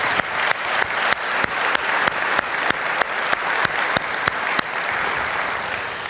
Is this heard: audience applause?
yes